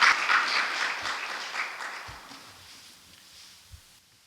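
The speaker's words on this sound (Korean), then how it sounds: "박수 부탁드립니다." An audience at an academic seminar held at a temple applauds warmly. The clapping starts full and loud, then gradually thins and dies away, with a few faint thumps underneath.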